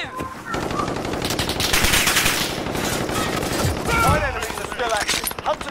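Automatic and rapid gunfire fills a Call of Duty Warzone match, steady bursts of machine-gun fire running throughout with other fire layered beneath, while players talk over it.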